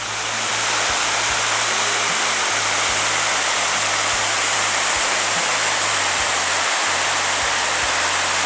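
The Torre waterfall in the upper Torre valley roars as a steady, loud, broadband rush of falling water, continuous and unbroken throughout, with no voices.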